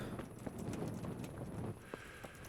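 Horse hooves clip-clop steadily in Kingdom Come: Deliverance, a quiet, rhythmic trotting close by with faint background ambience and no talk.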